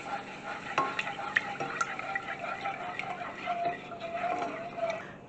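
Milk being poured slowly into a casserole pan on the stove, a soft steady liquid hiss and gentle bubbling with faint scraping from stirring, quiet and close, with no talking.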